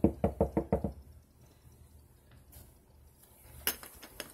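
Five quick knocks rap on a door, loud and close, then quiet room tone with a few faint clinks near the end.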